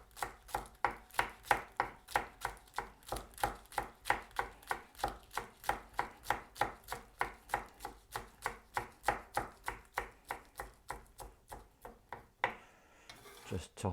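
A knife chops kale finely on a board, a fast, steady run of about thirty-five crisp, close strokes, then a brief pause and a softer scrape at the end.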